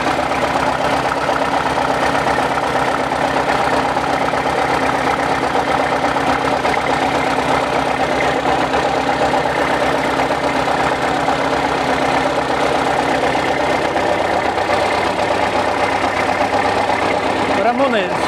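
A 1955 DT-54 crawler tractor's old engine idling up close, a steady, continuous low rumble with an even mechanical throb that holds unchanged throughout.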